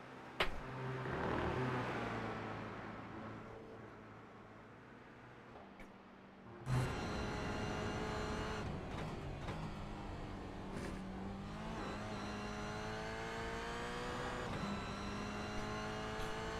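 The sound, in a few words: race cars roaring around Virginia International Raceway, from a video game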